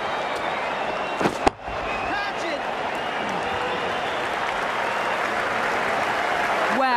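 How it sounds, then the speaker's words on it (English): A crowd cheers and applauds in an Ashes Cricket PC game during an India vs Australia one-day match, a steady, dense roar of clapping with a sharp thud near the start and commentary audible underneath. "The crowd are loving this."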